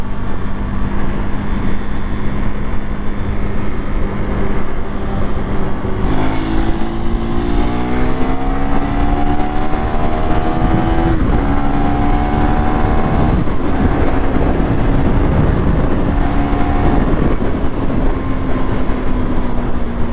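A KTM 390 Duke single-cylinder motorcycle accelerates in fourth gear at around 5000 rpm, its loud engine tone rising steadily in pitch with brief dips between pulls, heard close up under constant wind rush.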